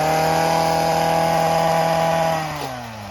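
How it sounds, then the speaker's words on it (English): A chainsaw runs loud and close at a steady high whine during tornado cleanup, then slows and drops in pitch toward the end as the engine eases off. "Like over here, the guys are fixing the chainsaw."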